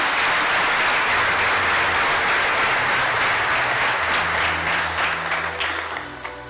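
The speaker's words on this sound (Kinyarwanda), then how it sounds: "Mumpera amashyi dukomeze." A church assembly gives a loud, dense round of applause that fills the room, many hands clapping together before it slowly thins near the end, with a low tonal hum underneath.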